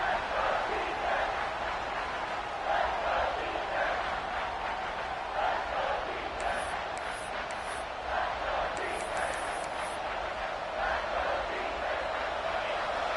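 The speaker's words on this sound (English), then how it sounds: "Big 3rd down as the crowd gets behind this defense." College football stadium crowd at Mississippi State versus Tennessee roaring in support of the defense on a big third down, a dense, sustained wall of cheering with sharp whistles piercing through midway.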